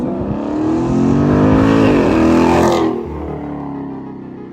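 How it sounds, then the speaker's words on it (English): A car's engine intake roars loudly during burnouts, the revs climbing and holding in a harsh, close, sustained bellow, then easing back to a lower rumble after about three seconds. "you see how loud that intake is?"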